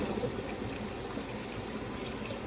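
Bone broth is poured into a cooking pan, a close, continuous liquid pour and trickle with no talk.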